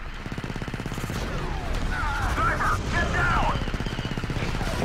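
Clone machine gun fire in the 2005 Star Wars Battlefront 2 game: a rapid, steady stream of blaster shots runs throughout, loud and continuous, with someone speaking French over it.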